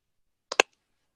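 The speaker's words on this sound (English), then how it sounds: "we were hearing some clicking in the background" A couple of sharp clicks picked up in the background of an online call, two quick, close-together snaps standing alone against silence.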